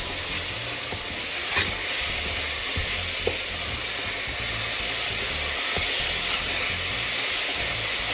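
Grated coconut filling with cardamom powder is stirred in a hot pan for lavariya, giving a steady close hiss and sizzle with faint scraping strokes, no talk over it.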